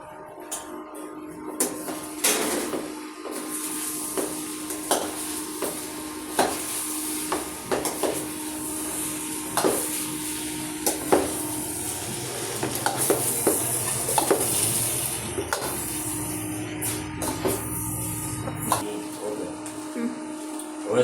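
A spoon stirs and scrapes poha with potato and a little chutney around a pan, in steady repeated strokes with clinks of metal on metal and a faint sizzle underneath, close and moderately loud.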